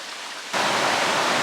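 Creek water rushes steadily at Miners Creek on the Pacific Crest Trail, near a log bridge. The dense hiss swells in abruptly after half a second, then holds loud and constant with no voices.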